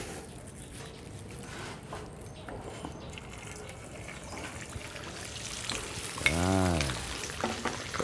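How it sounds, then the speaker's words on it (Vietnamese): Food taken from the freezer and set frying in a pan over moderate heat: a steady soft sizzle throughout, with a brief louder hiss and bubbling swell near the end, close up and without talk. "Bây giờ tôi cho ra để chiên."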